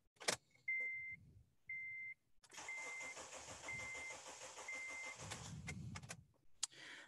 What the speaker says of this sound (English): So we're going to crank the engine over.